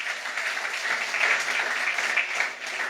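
Broad, steady applause from a church congregation at a Christmas sermon, a dense wash of many hands clapping together for the full three seconds with no pauses.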